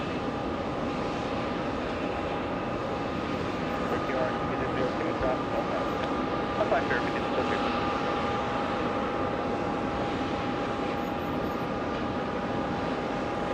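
An American Airlines jet departing JFK airport, a broad steady engine roar with a faint tonal whine, heard from outside at a constant level with voices in the background.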